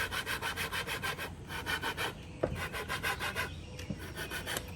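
A small, very thin, sharp hand saw cuts with quick, even back-and-forth rasping strokes, close and fairly quiet, with a faint knock partway through.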